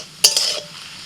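Mushrooms stirred in a frying pan give a single quick scraping clatter of a utensil over a soft sizzle, lasting under a second and fading away.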